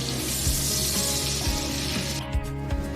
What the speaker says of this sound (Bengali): তো বাকি তেলে কালো জিরে ফোড়নে দিলাম পেঁয়াজ। তো পেঁয়াজটাকেও কিছু সময় ভেজে নেব।